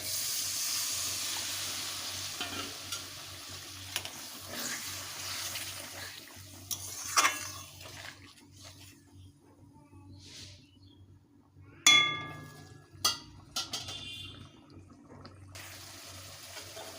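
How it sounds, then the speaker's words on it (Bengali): Water splashed into a pan of pointed gourd poppy-seed curry, a soft hiss and gentle bubbling that fades, followed by a few sharp clinks and scrapes of utensils against the pan. "এবার দিয়ে দেবো একটু জল"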